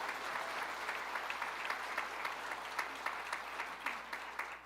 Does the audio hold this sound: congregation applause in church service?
yes